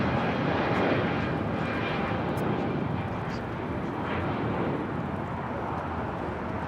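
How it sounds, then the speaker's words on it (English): A Boeing 787 Dreamliner arriving from Papeete on runway 25 left at Los Angeles International Airport. Its jet roar fills the air as a loud, steady, broadband rumble that swells slightly and holds throughout. "the Dreamliner up next for a south side arrival, 25 left"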